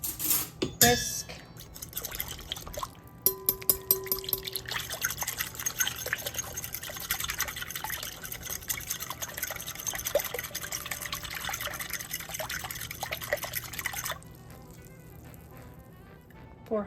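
A whisk clatters rapidly against a bowl, mixing sourdough starter, oil and water, with a continuous wet rattling scrape that runs for many seconds before stopping, close by.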